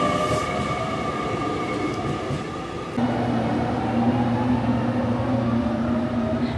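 A train at a station in Fukuoka, Japan gives off a steady rumble and mechanical hum, with a low tonal drone that shifts partway through, heard continuously and fairly close with no voices.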